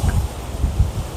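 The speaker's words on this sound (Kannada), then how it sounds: "ಹೆವಿ ಗಾಳಿ ಗುರು, ಹೆವಿ ಅಂದರೆ ಹೆವಿ." Strong wind buffets the microphone on a rocky hilltop viewpoint of Ramadevara Betta near Bengaluru, with low rumbling gusts surging in uneven waves through the short stretch and no voices.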